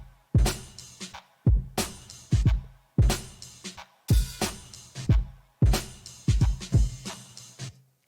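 A drum kit plays a steady, punchy beat on its own, with regular kick and snare hits and cymbal wash repeating in a looping pattern, close and loud with no talking.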